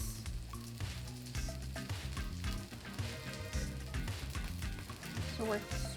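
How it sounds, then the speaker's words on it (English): Bread toasts in a frying pan beside an omelet, sizzling steadily and quietly throughout, with faint crackles in the background. Music plays over it and a voice is heard at times. "So we're sort of toasting the bread on a frying pan."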